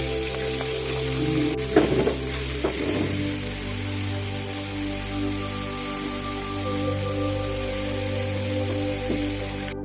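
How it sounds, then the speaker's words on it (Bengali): Fish pieces coated in salt and turmeric go one by one into hot oil for a chilli fish curry, a steady close sizzle with a couple of sharper spits early on and a faint hum underneath. "এবার আমরা একে একে মাছগুলো ছেড়ে দেওয়া হচ্ছে।"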